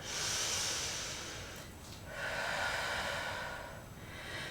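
Deep breaths during a vinyasa yoga session, two long airy exhalations or inhalations rising and falling over several seconds, close and soft with no talking.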